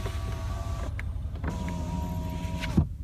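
A 2013 Mercedes-Benz S63 AMG's electric rear window sunshade runs with a whirring motor whine that stops briefly, then resumes and ends with a soft clunk, heard close inside the car.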